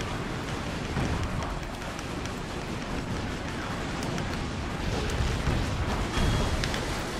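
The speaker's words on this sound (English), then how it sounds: "More explosions." Continuous rumbling blasts and crackling debris from explosions in the video game Metal Wolf Chaos, a dense, steady roar of battle noise with no pauses, loud throughout.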